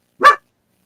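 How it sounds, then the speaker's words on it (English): Scooter, a pet dog lying fully down, gives a single short, sharp bark, close and loud, alone with no talk over it. "you're the only dog I know that can bark while laying down"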